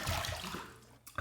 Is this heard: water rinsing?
yes